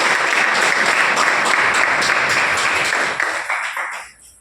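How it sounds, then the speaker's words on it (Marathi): Dense applause from an audience at a Satara meeting, steady and loud for about three seconds before tapering off and fading out. "यासाठी एकदा टाळ्या वाजल्या"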